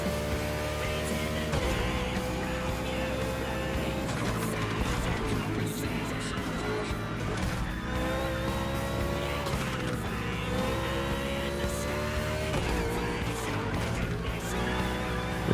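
A NASCAR race car engine in The Crew Motorfest roars continuously at high revs, with pitch rising and dropping through gear shifts and occasional passing cars, loud and sustained throughout.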